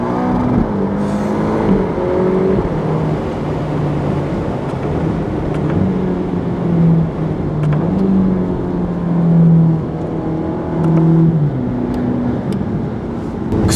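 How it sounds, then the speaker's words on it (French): A Ferrari Roma's turbocharged engine rises and falls through the revs from inside the cabin, a loud continuous drone with shifting pitch and faint turbo whistle riding on top. "je sais pas si vous entendez les turbos siffler plus on monte en régime."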